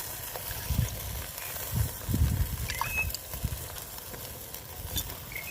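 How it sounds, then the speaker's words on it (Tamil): Fish frying in a pan after coconut milk is poured back in, a constant bubbling sizzle with low, soft thumps of stirring at close range, with no talking. "தேங்காய் பால் நம்மகிட்ட இருக்கிற தேங்காய் பால் மறுபடியும் இதில் சேர்த்திக்கலாம்"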